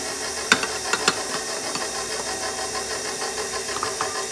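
An electric mixer runs on low speed through white cake batter made with cake mix, flour and sugar, a steady droning whir with a faint hiss and a few sharp ticks early on, heard alone without talk.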